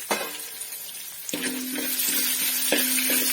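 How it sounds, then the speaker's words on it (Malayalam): Red chillies fry in hot oil along with urad dal and onion in a pan for a jackfruit thoran, with a continuous crackling sizzle and a few sharp stirring knocks, close by. "ചുവന്ന മുളക് ഇട്ടു"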